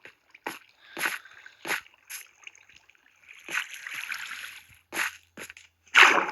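Water splashing in the Minecraft video game, heard as a series of short, sharp splashy bursts spread across several seconds with quieter sloshing in between.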